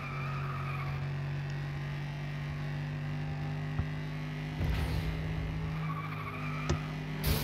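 Tires skid and squeal as a car corners in the FlatOut 2 racing video game, a sustained drone over steady engine hum with a few sharp impacts toward the end, no speech.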